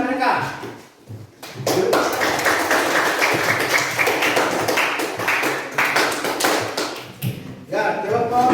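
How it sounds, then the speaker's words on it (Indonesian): A classroom of students applauds a presenting group, giving sustained, dense clapping for several seconds after a brief pause, with voices audible around it. "kalau sudah sepakat beri aplaus kepada mereka"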